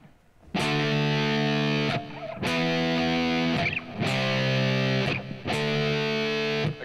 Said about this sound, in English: I can also slide power chords,